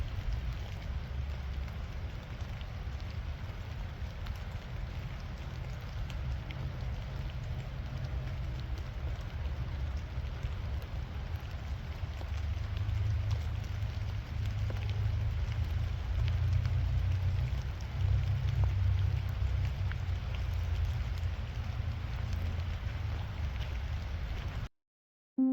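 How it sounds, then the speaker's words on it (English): Rain falling steadily at a lake town in Wolfeboro, New Hampshire, a continuous soft hiss and patter with low rumble lasting throughout, no voices, ending abruptly. "It's starting to rain."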